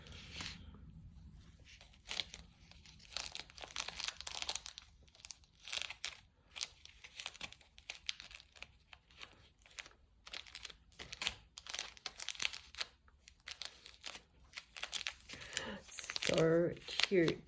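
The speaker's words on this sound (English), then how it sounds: "And then I have a different type of ribbon this time. Just going to tie that around." Ribbon being handled and tied around a small crafted mini clipboard, giving soft, close crinkling and rustling bursts throughout, with quiet talk from a crafter mixed in.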